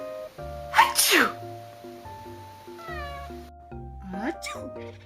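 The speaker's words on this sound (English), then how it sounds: "Cat makes funny noises when I sneeze." A cat gives short, strained meows and chirps as a person sneezes loudly nearby, indoors and close, the sneeze bursts and the cat's brief yowls trading back and forth over a few seconds.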